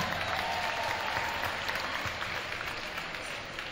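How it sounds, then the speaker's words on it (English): Crowd applause in a gym during senior recognition at a high school basketball game, continuous clapping from a large crowd, moderately loud and slowly fading. "Let's hear it for Tatiana."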